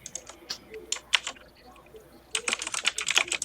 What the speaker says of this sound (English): when I start going, it sounds like I'm typing away on a typewriter. It's so damn loud.